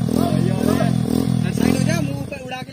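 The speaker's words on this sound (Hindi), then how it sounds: "यहाँ से बाइक चढ़ा रहे हैं।" A motorbike engine labours while being ridden uphill over steep off-road ground, a steady close rumbling drone with some rattling, continuous through the clip.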